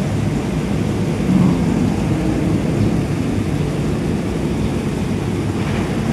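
Steady, dense rain on a hotel terrace in Subic, Zambales, hissing and rumbling continuously, fairly loud and close, with no voices.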